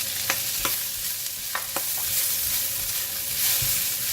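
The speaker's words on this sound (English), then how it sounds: "Stir fry for a while and then make sure that the vegetable stem is softened" Vegetables and chili stir-frying in a wok for salted fish fried rice: a constant close sizzle punctuated by several crisp spatula scrapes and knocks against the pan.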